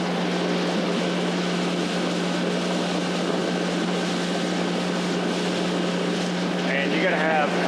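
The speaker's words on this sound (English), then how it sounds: "it looks like a sprayer plane" A crop-duster spray plane passing low over the Chesapeake Bay shore on the Virginia side, its steady engine drone and propeller buzz holding loud and constant throughout with a strong low hum, rising slightly near the end.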